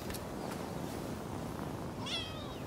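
A cat in the video game Rise of the Ronin lets out a single short meow near the end while being petted, faint over a steady background ambience with no talking.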